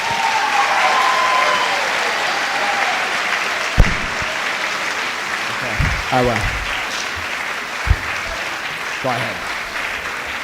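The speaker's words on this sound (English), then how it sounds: "huge round of applause." A school spring orchestra concert audience gives parents a big round of applause, steady dense clapping throughout with a few brief voices speaking over it.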